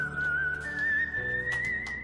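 Melodic whistling from the video game Knytt Stories, a steady sustained tone that slowly glides and wavers in pitch, loud and clear for about two seconds over a low background hum, with no talking.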